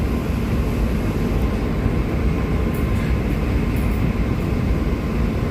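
A MEDHA AC local train running between Borivali and Virar gives a constant, loud rolling rumble and hiss from inside the coach, steady for the whole stretch with no talk.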